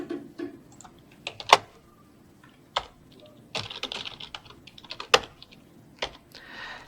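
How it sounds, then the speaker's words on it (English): Close-up keystrokes on a computer keyboard in scattered clusters of sharp clicks with short gaps between them, and no speech. "I'm just going to type this out."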